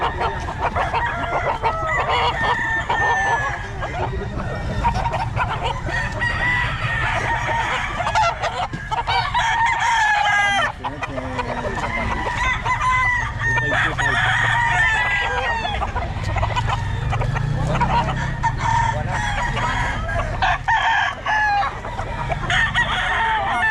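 Chickens and roosters at a market day in the Philippines cluck and crow constantly, several birds at once making a busy, near cackling chorus over a low crowd murmur.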